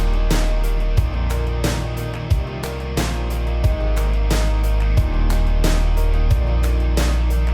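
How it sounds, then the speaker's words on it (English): A pop country mix plays continuously, with drums, guitar, sub bass, organ and piano layered into a full, steady groove and regular kick and snare hits throughout. "So now with the drums and the guitar and the other sub, which is an organ and a piano, it sounds like this."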